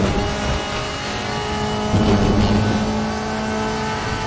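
A DTM race car engine in the RaceRoom sim at the Nurburgring drones steadily, then revs up sharply midway, loud and close without any talk.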